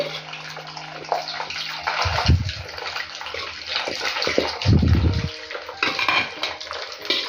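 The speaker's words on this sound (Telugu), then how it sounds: "మీడియం ఫ్లేమ్లో పెట్టేసుకొని మనం ఇందాక రెడీ చేసుకున్నటువంటి చికెన్ ముక్కలను యాడ్ చేసుకోవాలి" Chicken pieces for a chicken pickle dropped into hot oil over a medium flame, giving two bursts of loud sizzling and bubbling against clattering pot noise, with no talking.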